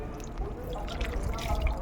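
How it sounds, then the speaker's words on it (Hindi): Water pouring onto the soil of a potted jade plant, a soft continuous trickle and patter that stays close and fairly quiet throughout. "पहले हम इसकी नीचे सॉइल में पानी डालेंगे"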